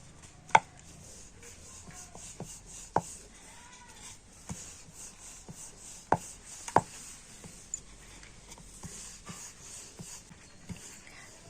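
Cocoa cookie dough being rolled out on a board, soft rolling-pin movement broken by scattered sharp taps and knocks, close and quiet, with no talk.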